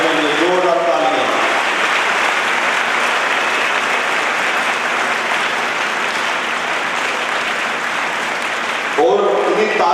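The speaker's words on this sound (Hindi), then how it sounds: "आप सभी बच्चे अपने लिए जोरदार तालियां" Loud, steady clapping from a group of children at a Yoga Day session in Karnal, filling the clip for several seconds, with a voice heard briefly at the start and again as it ends.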